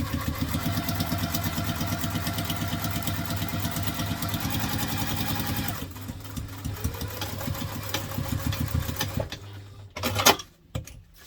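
A sewing machine stitches a laptop briefcase with binding, running fast and steady for about six seconds, then slowing to short bursts of back stitching before stopping with a few handling clunks.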